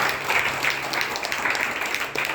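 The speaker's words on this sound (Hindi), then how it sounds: "यार तालियां जबरदस्त बजाओ" A crowd claps continuously in a meditation session hall, an even wash of many hands at moderate level with no clear gaps or talk.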